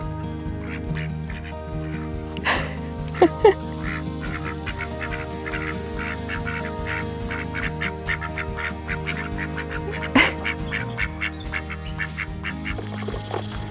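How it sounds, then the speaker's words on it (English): Ducks in a home vegetable garden quack steadily throughout, several birds calling close by in overlapping bursts, with occasional louder honks standing out. "ducks will eat low-hanging fruit off of things"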